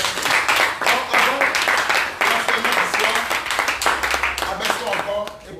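A church congregation applauds and cheers in acclaim of Jesus, with dense, sustained clapping that runs loud and continuous throughout, mixed with shouting voices.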